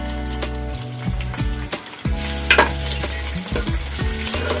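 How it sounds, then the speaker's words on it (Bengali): Marinated pulao rice for Basanti pulao sizzles in a hot pan over medium-low gas while being stirred, with a steady frying crackle broken by repeated scraping strokes of the spoon, close and clear without speech. "আপনাদেরকে এই পোলাওয়ের চালগুলো নেড়ে নিতে হবে ভালো করে"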